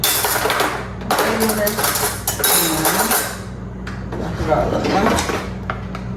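A hand rummages through a kitchen drawer for a spoon, with loud, continuous rattling and clinking of metal cutlery close by.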